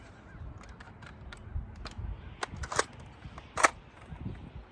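Dart Zone Max Stryker foam dart blaster firing an angled shot outdoors, with a few quick sharp pops over faint ambient noise and no talk.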